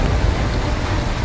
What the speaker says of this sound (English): Reutlingen, Germany, found itself at the mercy of a catastrophic flood and hailstorm